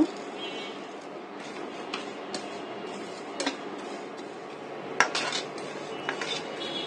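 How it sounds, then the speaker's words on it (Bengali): Panch phoron spices dry roasting in a frying pan, heard as a steady low rustle with scattered light ticks and clinks of spatula on metal, one sharper knock partway through, no talk. "ফ্রাই প্যানে আমি দিয়ে দেব পাঁচফোড়নগুলো। পাঁচফোড়নগুলো আমি ভেজে নেব।"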